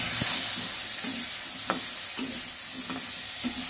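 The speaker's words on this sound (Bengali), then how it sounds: "নুন হলুদ দিয়ে আলুগুলো আমি ভেজে নিচ্ছি।" Potatoes fry in oil seasoned with salt and turmeric, producing a loud, close, continuous sizzle with light scraping knocks from a stirring utensil at intervals.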